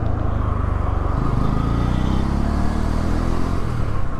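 A Bajaj Pulsar N160 motorcycle, the 2024 model, pulls hard through its gears, its engine note loud and close with a steady droning roar that climbs in pitch as it revs up.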